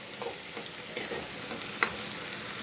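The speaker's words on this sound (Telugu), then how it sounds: "గోల్డెన్ బ్రౌన్ వచ్చేదాకా వేయించుకుందాం." Two medium onions, cut fine, frying in a pan until golden brown, giving a steady sizzle with soft stirring scrapes throughout and one sharper clink near the end.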